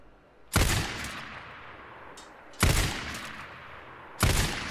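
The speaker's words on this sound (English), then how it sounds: "Let me just shoot a couple." Gunfire in the Days Gone video game during a horde fight, three loud, separate shots spaced over a few seconds, each with a short decaying tail.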